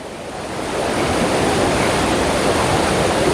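Loud, continuous roar of flood water rushing toward a lake, a dense broadband wash that swells in the first second and then holds steady, close by; no voices.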